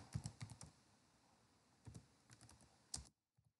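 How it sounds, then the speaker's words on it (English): Quiet clicky typing on a computer keyboard, a quick burst of keystrokes, a short pause, then another brief run and a final tap, close and soft with no talking. "type in download"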